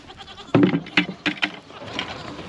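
Farm goats bleat loudly and close by, several wavering calls in quick succession over a quiet outdoor background.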